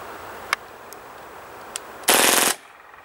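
A KWA MP9 A3 airsoft gun lets off one short, loud full-automatic burst of rapid, evenly spaced mechanical shots lasting about half a second, preceded by a few faint single clicks and followed by quiet.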